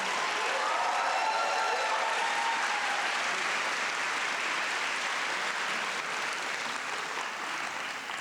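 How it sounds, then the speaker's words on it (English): Sustained applause from a large audience at an evening awards celebration, following a high school drumline performance, steady and dense throughout with faint whoops and no clear talk. "one more round of applause for the amazing Blake High School drumline"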